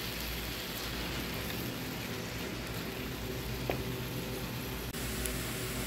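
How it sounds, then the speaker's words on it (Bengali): Chopped onion fries in oil in a frying pan, a steady hiss of dense crackling sizzle, moderately quiet and unbroken, with a couple of faint clicks. "পেঁয়াজটা একটু ভালো করে ভেজে নিব।"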